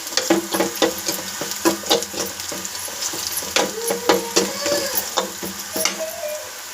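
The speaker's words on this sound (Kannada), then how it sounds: "ಚೆನ್ನಾಗಿ ರೋಸ್ಟ್ ಮಾಡಿ" Cumin and poppy seeds roast in a pressure cooker for a village-style sprouted-bean curry, giving a steady close sizzle broken by repeated scraping and stirring strokes, with no talk.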